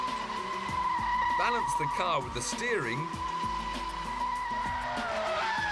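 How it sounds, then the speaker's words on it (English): A car drifts through a bend under full throttle, the engine revving hard while the tyres squeal and skid in wavering bursts, with someone talking over it. "Turn hard into a bend to get the back out, then catch the slide. Now apply full throttle."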